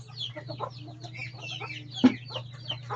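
Chickens and ducks at feeding time cluck and chatter close by, a busy mix of short fowl calls over a low steady hum, with one sharp knock partway through.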